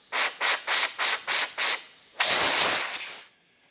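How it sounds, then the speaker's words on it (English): Compressed air blasting oil out of the drain holes of a Honda CRF450 dirt bike fork: six short, evenly spaced hissing puffs, then one longer, louder sustained blast before it cuts off. "if you do have compressed air, go ahead and blow it out to get that last little bit out of there"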